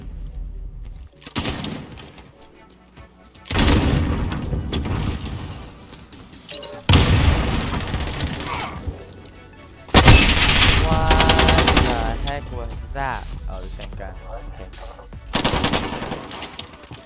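A P90 submachine gun fires in Modern Warfare in several long, rapid bursts, loud and close, with quieter gaps of game ambience between the volleys.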